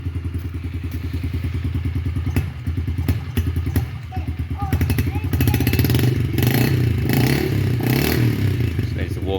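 A Yamaha TTR-50 dirt bike's small single-cylinder engine revs up and down repeatedly, close and loud, with mechanical clatter and thuds while someone speaks over it.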